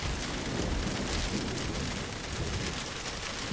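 Steady, dense rain pattering in the video game Generation Zero, a soft continuous hiss with low rumbling underneath that holds even and fairly quiet throughout with no voices.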